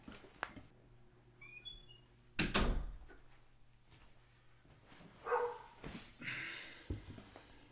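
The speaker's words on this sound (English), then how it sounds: "I'm gonna have to go see with this dog what's going on" A dog at home gives a few short barks and thumps amid door and cupboard knocks, a faint bird chirp early on, the sounds sparse and moderately distant, with no one speaking.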